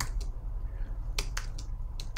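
A few sparse, sharp keystrokes tap on a computer keyboard, close and fairly quiet over a low background hum.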